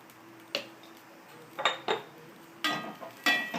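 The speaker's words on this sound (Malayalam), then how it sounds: "നല്ലവണ്ണം ഇളക്കി ചേർക്കണം" Sprouted green gram stir-fry for thoren being stirred in a pan, with several separate metallic scrapes and clinks of a spoon against the pan spread over a quiet background.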